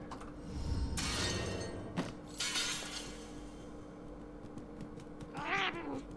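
A cat meows inside the video game Murdered: Soul Suspect, one clear rising meow near the end, with a sharp glassy crash and a few thuds earlier against a quiet game ambience.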